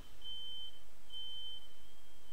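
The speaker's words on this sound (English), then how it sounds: "set the fire alarm off" Smoke alarm in a home sounding a steady series of high, piercing beeps, fairly loud and continuous with no talking over it.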